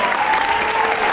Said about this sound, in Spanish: Por favor, fuerte la palma para ella.